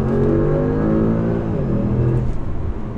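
An APR Stage 3 tuned Audi S6 accelerates hard, with a loud, continuous engine note climbing steadily through the revs and a brief shift near the end, heard from close by.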